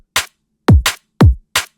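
Short, snappy drum-and-bass clap samples played dry with no room effect, four tight hits in a quick rhythm, each cutting off abruptly and clearly alone.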